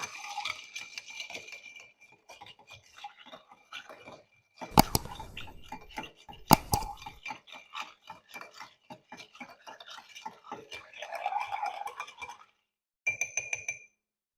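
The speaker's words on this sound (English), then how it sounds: "we're going to stir this down" A cocktail made with half and half is stirred in a glass, a long run of light, rapid clinks and taps with a few louder knocks partway through, quiet and close, without any voices.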